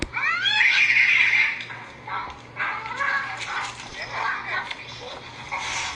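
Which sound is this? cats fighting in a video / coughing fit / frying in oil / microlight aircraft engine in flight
cats fighting in a video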